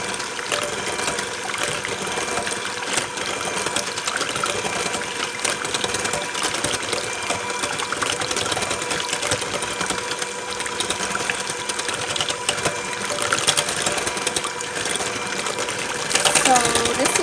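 A blender whipping cocoa butter body butter, giving a continuous loud whirring motor hum that runs steadily throughout with little change, close to the microphone.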